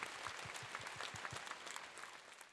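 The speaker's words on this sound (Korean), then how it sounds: "여러분 힘찬 박수 좀 부탁드립니다." An audience at a memorial ceremony applauds, with quiet, distant, even clapping that continues throughout.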